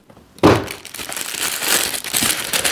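Crinkly packaging paper being pulled open around a Marc Gebauer watch, starting with a sudden close rustle and continuing as steady crumpling and crackling for a couple of seconds, with no voices.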